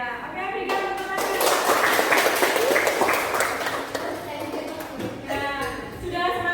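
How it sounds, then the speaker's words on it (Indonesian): A class of schoolchildren claps together in a classroom, a burst of quick irregular clapping for a few seconds, with children's voices and shouting mixed in around it. "berikan tepuk tangan"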